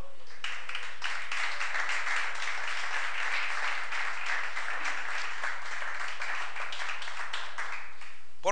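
A church congregation claps during a sermon by Pastor Orlando Gonzalez, sustained brisk applause that stays fairly even and moderately loud across the whole stretch.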